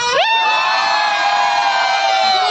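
Cruise ship audience from Maharashtra cheering and shouting together, a loud sustained crowd roar with high whoops rising at the start and holding steady throughout.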